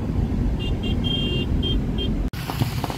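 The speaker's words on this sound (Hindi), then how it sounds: "ये देखिए आ रहा है पीछे रघू।" A Toyota Fortuner SUV drives on a rough off-road track, its low engine rumble steady and continuous throughout, with a few faint high tones over it and a sharp knock near the end.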